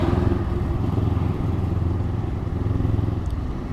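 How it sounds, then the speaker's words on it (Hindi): A sports motorcycle rides along with a steady, loud engine drone and a deep rumbling exhaust, close by and continuous, with no voices over it. "अब स्पोर्ट्स बाइक है तो एग्रेसिव तो होगी"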